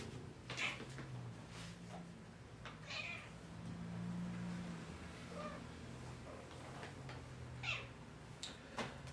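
A pet cat meows a few times indoors, its short calls standing out against quiet room noise with faint household sounds between them.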